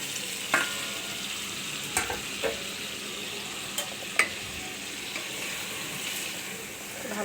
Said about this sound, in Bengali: টমেটো ভুনা হয়ে গেছে, এবারে আমি ইলিশ মাছগুলো দিয়ে দিচ্ছি